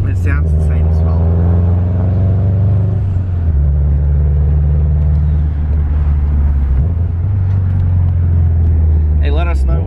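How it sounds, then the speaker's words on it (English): A tuned 2008 Subaru WRX STI GRB Spec R engine gives a loud, close, deep droning rumble heard from inside the car, with revs swelling and dipping. Faint voices come through at the start and end. "This car looks insane. It sounds insane as well."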